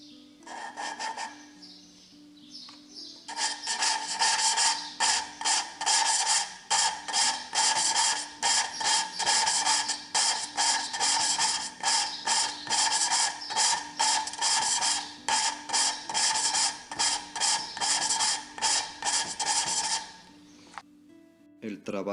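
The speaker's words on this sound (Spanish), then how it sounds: "Lo único que hay que hacer es ponerle un poco de esmeril a las válvulas y con el chupón para esmerilarlas" Repetitive scraping and rubbing of engine valves being hand-lapped with grinding compound and a suction-cup lapping tool, a steady back-and-forth rasping close up, with someone talking at the start.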